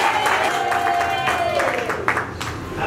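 Wedding guests in Bujumbura, Burundi applaud the newly married couple at the close of the ceremony, steady clapping from a crowd mixed with voices and a sustained tone.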